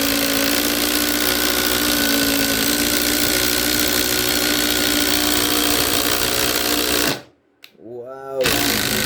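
A Ryobi sub-compact cordless impact driver with a 1/2-inch spade bit whirs loudly and steadily for several seconds, then cuts out abruptly, followed by a brief spin-down and restart.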